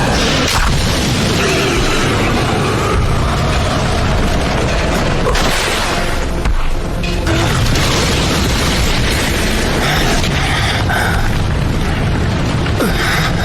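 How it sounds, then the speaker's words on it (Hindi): Anime Fire Style Dragon Flame Jutsu fire blast, a loud, sustained roaring whoosh with booming bursts, dense and continuous for several seconds with a brief dip midway. "Fire style dragon flame jutsu."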